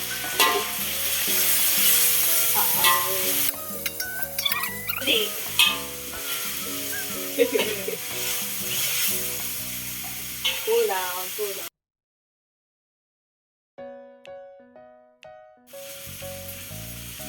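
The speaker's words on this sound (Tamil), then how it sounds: "நல்லா வதக்க விடும்" Tamil home cooking with ginger-garlic paste being sautéed in a pan: steady sizzling and stirring scrapes, with a voice talking over part of it, a brief silent gap, then quieter sizzling resumes.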